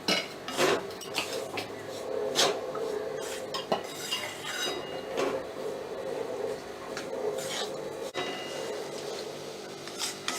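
Moong flour roasting in a pan for ladoos, stirred continuously with a spoon: a steady rhythmic scraping and rubbing against the metal, with occasional sharper clinks, close and moderately quiet.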